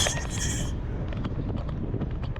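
Wind buffets the microphone on a cycling trail in San Nicolas, Batangas, making a steady low rumble. A brief high hiss at the start gives way to a continuous gusty roar.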